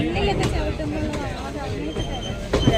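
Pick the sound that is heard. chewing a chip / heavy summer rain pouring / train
train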